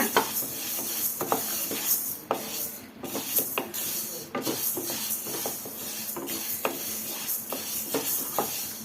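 Ingredients are roasted in a pan until reddish for a village-style horse gram sambar, with close, irregular stirring scrapes and shuffling over a faint sizzle, no voices.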